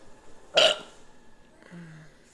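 A single short, loud burp erupts near the start, followed by a faint low gurgle later in an otherwise quiet indoor room.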